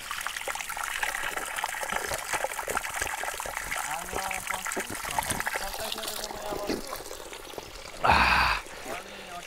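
Spring water trickles and splashes from rocks in a village setting, a soft continuous dribble under nearby talk, with a brief louder gush of pouring near the end.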